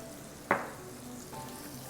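Chopped garlic drops into melted butter with a sharp burst of sizzling, then a soft steady fry continues at low level, with a brief second flare near the end.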